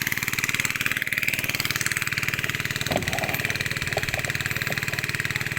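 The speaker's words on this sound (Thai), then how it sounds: "บรรยากาศ การสูบน้ำนะครับ" A small engine drives a water pump draining a rice field after sowing, idling in a steady, loud, close drone for the whole stretch, with a few faint clicks and knocks over it.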